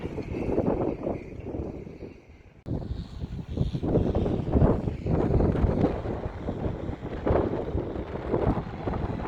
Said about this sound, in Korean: 모래바람이 불고 있습니다